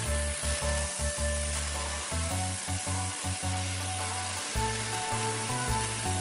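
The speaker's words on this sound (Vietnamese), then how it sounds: "chỉ cần nhấn nút công tắc là bạn có thể rửa sạch mọi vết bẩn bám vào xe" A Project P1600 home pressure washer sprays steadily for the whole stretch, its loud continuous hiss running under a pulsing, stuttering motor hum that cuts in and out.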